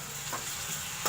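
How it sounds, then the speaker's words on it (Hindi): Chicken fries in a pan for a chicken matar curry with a continuous bright sizzle and crackle, close and steady, with no voices over it. "इसको मैं अच्छा सा फ्राई करूँगी, कलर चेंज होने तक"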